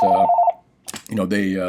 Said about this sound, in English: pardon my phone there, phones are ringing.